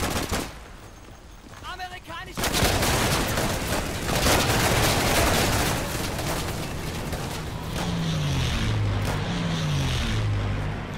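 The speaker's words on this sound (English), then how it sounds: "So that was an American gun run." Gun run support strike from American forces in the shooter game Day of Infamy: a sustained loud roar of rapid gunfire and impacts with an aircraft drone, a low engine pitch sweeping near the end, ongoing throughout.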